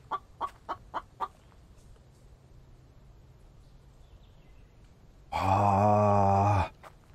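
A bird in the video game The Infected gives a quick run of five sharp clucks, then after a quiet gap lets out a single loud, drawn-out gobbling squawk lasting over a second.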